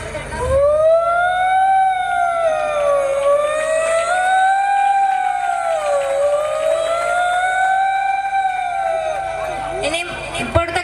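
A human voice imitates an ambulance siren in one long unbroken rising and falling wail, loud and close, before it breaks off near the end.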